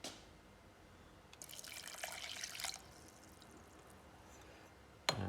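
Water pours into a kettle, 100 ml measured out for a latent heat of vaporisation experiment, a soft splashing stream for a second or so, then quiet, ending with a sharp knock; faint and with no talking.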